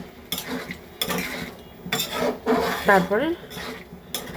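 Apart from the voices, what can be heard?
stirring peas in a pan for ghugni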